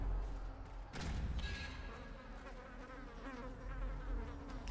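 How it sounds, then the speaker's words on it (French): Mosquitoes in the video game Darkest Dungeon drone in a steady, continuous whining buzz throughout, with a brief dull thump near the start and layered game ambience beneath. "le bruit de ces moustiques là sans cesse"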